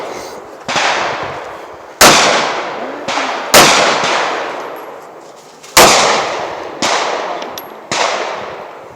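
Rifle shots at an outdoor shooting range during sighting in, five or six sharp, loud reports spaced a second or two apart, each followed by a long decaying echo across open ground.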